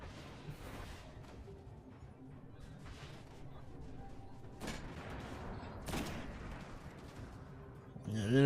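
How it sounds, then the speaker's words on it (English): Gunfire rattles through a Destiny strike in the Devils' Lair, with an enemy captain firing from above; sharp, repeated shots and bursts stay steady over game ambience, swelling near the end. "the enemy captain shooting me up there"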